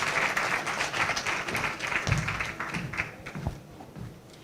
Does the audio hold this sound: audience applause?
yes